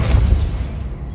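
Depulso force spell blast from Hogwarts Legacy, a single loud low booming burst that rumbles and fades over about a second, heard alone.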